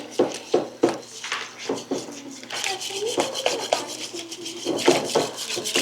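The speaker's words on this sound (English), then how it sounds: "we'll stir this all together with a whisk" Honey, maple syrup, eggs and buttermilk being whisked in a bowl, a close series of rhythmic scraping, clicking strokes against the bowl, with a voice speaking over part of it.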